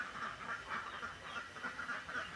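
Many ducks quack together in a repeated, chattering chorus that rises and falls in short bursts, moderately close but fairly faint, with no one talking.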